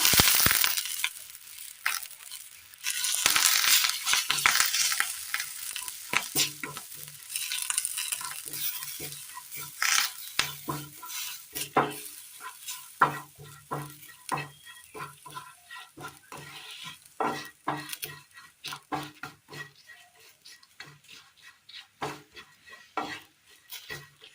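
Dried red chilies and curry leaves frying in a pan for a Kerala curry, a loud crackling sizzle at first that settles into sharp scraping and clattering stirring strokes close by.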